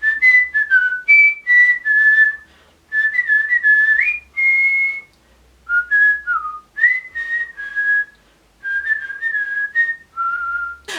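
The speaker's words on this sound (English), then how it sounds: "Anyways, so I whistle a lot." A person whistles a tune alone and close by, in short melodic phrases with brief pauses between them and slightly airy, sliding notes.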